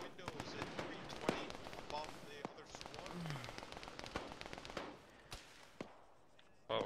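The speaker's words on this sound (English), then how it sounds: "the enemy is shooting over me" Enemy gunfire in a military shooter video game: dense, irregular cracks and pops of shots coming in over the player, fairly faint and steady, easing off near the end.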